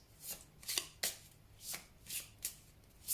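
Tarot cards being shuffled close by, with soft rhythmic riffling bursts repeating about every half second, quiet and with no talk.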